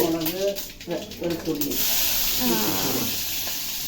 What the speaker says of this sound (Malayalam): കടുക്ക് പൊട്ടിക്കാൻ പോണേ കടുകിട്ടു